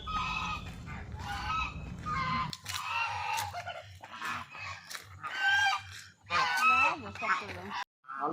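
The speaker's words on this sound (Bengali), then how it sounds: "এরপর আমি চলে যাব এখানে হাঁস দেখতে।" Ducks at Deul Park in Durgapur give a string of loud, nasal honks and quacks, some overlapping, near the listener, with a voice talking briefly in between.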